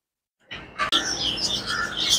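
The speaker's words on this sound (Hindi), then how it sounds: "ये देखो भाई यहाँ पे एक से एक जो है परिंदे अवेलेबल हैं, मलेशियन।" Several birds chirp and tweet in bright overlapping calls along a city street in Kuala Lumpur, Malaysia, starting after a brief silence, with a sharp click partway through and no talking.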